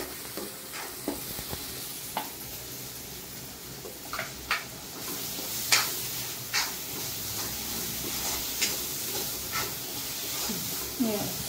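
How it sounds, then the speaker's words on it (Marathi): Ground masala paste for Kolhapur-style veg kurma fries in oil with a steady soft sizzle, broken by occasional stirring scrapes of a spoon against the pan. "वाटण चांगलं परतून घ्यायचं, भाजून तेल सुटेपर्यंत भाजायचं।"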